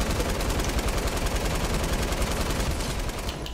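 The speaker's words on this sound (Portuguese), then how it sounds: "Essa metralhadora aqui é excelente, mano. Só segurar o dedo" Sustained automatic machine gun fire in Fortnite, a dense, rapid, unbroken burst of shots at constant loudness for the whole stretch.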